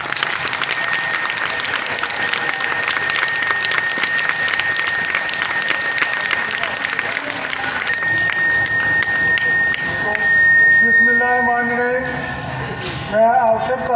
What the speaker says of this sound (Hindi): अपने भरपूर तालियां बजाएं।